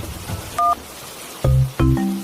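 Cartoon telephone dialing tones: a few short, clean electronic beeps in quick succession, loud and isolated, without any talk.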